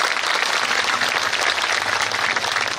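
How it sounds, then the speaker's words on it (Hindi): An audience claps loudly and steadily throughout at a religious yajna ceremony in a village, a dense continuous wash of many hands with no pauses. "जोर से जरा ताली बजाना, ऐसे हल्का नहीं।"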